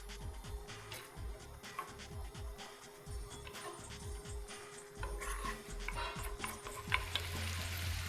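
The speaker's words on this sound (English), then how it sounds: "now this is sizzling away very, very nicely" Steady crackling sizzle of food cooking in a pan, with scattered pops and light clinks, fairly quiet and without talk.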